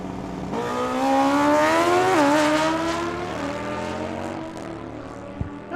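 Motorcycle drag race at Tucson Dragway: a 2013 Harley of about 883 cc against a 1978 Kawasaki of about 1500 cc, engines rising in a loud, sustained roar with pitch climbing through the gears, then fading slightly as the bikes pull away.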